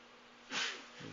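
A lone sneeze from a man, one short breathy burst that rises and cuts off quickly, close to the microphone against a quiet background hum.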